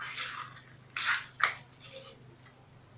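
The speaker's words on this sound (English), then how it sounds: "So you cut fabric like this." Scissors cut fabric for a sewn crop top in about five short, crisp snips spaced irregularly. The snips are quiet and close, with no talk.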